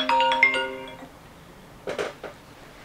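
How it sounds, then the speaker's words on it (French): Phone ringing on an outgoing call, a clear electronic ring tone sounding for about a second, followed by quiet and a couple of soft clinks or knocks. "Ça appelle, ça appelle."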